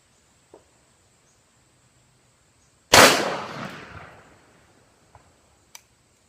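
A single loud blast from a Mossberg Shockwave shotgun fired at targets, sharp and close with a long rolling decay, set apart by quiet stretches holding only faint small clicks and handling noises.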